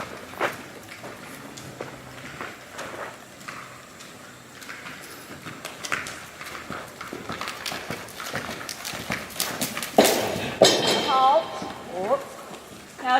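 A horse canters around an arena during a riding lesson, its rhythmic hoofbeats thudding at moderate distance, with a voice heard now and then over the footfalls.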